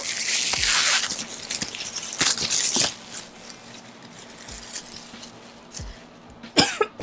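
Several harsh coughs come in bursts close to the microphone, separated by pauses with faint background hum.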